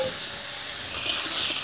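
Potato and eggplant pieces go into a pan of fried onion, chillies and spices in hot oil. A brief, steady sizzle and hiss plays close up, without speech.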